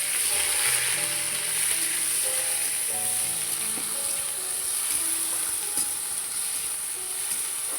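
Onion, ginger and garlic paste frying with spices in a pan gives a steady, close sizzle that hisses evenly throughout, with faint tonal sounds in the background.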